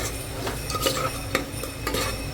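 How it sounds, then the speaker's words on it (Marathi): A spoon stirs yakhni pulao in a metal cooking pot, giving irregular scraping clinks and knocks over a steady stovetop hiss, close and moderately loud, with no talking. "मस्त मिक्स करून घ्यायचं आहे"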